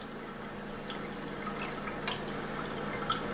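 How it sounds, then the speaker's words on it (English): A few drops of reagent fall into a water sample, making faint, sparse plinks. A soft, steady hiss of running water continues underneath. "We'll add a couple of drops."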